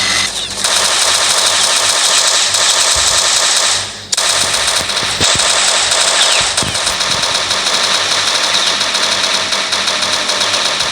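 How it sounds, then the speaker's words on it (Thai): Sustained automatic gunfire blasts nonstop, loud and close, while a player storms a server map killing NPCs in a shooter video game, with a brief pause near the four-second mark before the rapid firing resumes. "เราก็ยิงไปเลย"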